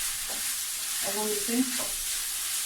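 Macaroni frying in a pan gives a soft, steady sizzle under faint stirring scrapes, with a brief tonal clink partway through.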